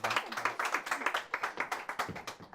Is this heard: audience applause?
yes